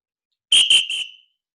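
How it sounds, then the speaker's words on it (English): Three sharp, piercing blasts on a lifeguard's whistle at a beach, the first two short and close together and the third slightly longer, loud and alone against silence. "3 whistles rang out."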